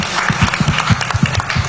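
An audience at a business awards event honouring India's most powerful women applauds, a steady wash of claps with rhythmic heavier beats running throughout, fairly loud and close, with no voice over it.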